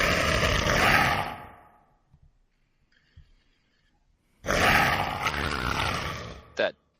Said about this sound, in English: It's actually an orc.